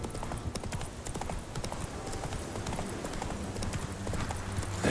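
Roach, Geralt's horse in The Witcher 3, trots along with a brisk, continuous clip-clop of hooves up close, a busy rhythmic patter with game ambience underneath.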